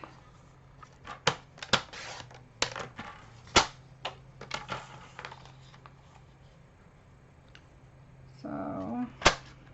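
A Stampin' Up paper trimmer cuts paper close by, producing a series of sharp, irregular clicks and snaps, followed near the end by a brief burst of other handling noise.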